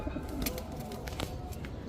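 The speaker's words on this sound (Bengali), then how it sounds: "এখন দেখাবো এক জোড়া আর্মি কবুতর, নিউ অ্যাডাল্ট আর্মি কবুতর" A pair of new adult army pigeons coo softly and repeatedly at close range, the low throaty calls set against a light background hum.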